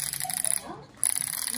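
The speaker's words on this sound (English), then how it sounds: "winding your film is also so satisfying on this camera." Film being wound on a Pepsi-branded 35mm point-and-shoot camera: a close, dense run of fine ratcheting clicks, broken by a brief pause, then another quick burst of clicking.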